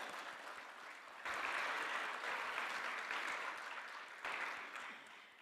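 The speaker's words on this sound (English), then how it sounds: "let's give her a big round of applause" Steady applause from a crowd, clapping rising louder after a moment and swelling again near the end, with no voices over it.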